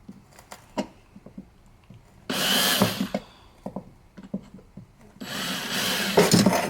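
An old corded Porter-Cable drill bores into a Husqvarna 572 XP chainsaw muffler, two loud sustained bursts of whining, grinding drilling separated by short clicks and handling knocks.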